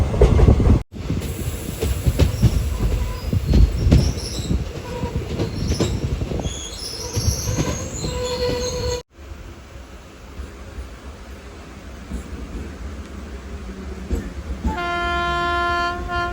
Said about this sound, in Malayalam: നമ്മുടെ ട്രെയിൻ എടുത്തു.